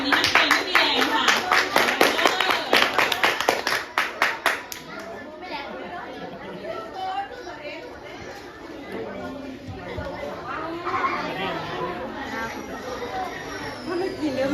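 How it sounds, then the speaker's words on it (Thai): Students clapping at a teacher's request in a classroom, a burst of dense applause for about five seconds that stops, followed by children's chatter and classroom babble. "ขอเสียงปรบมือด้วยค่ะ"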